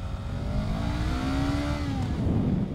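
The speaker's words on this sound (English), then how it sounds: "It's kind of got that sport bike whine, and it spools up so fast" Honda Rebel 500 motorcycle engine revving hard, a rising sport-bike-style whine with rapid spool-up, loud and close and steady throughout with no voices.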